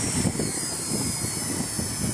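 A small RC helicopter spins up on its stock 150mAh 45C LiPo battery, giving a steady, close, high-pitched motor and rotor whine with a faint rhythmic pulsing.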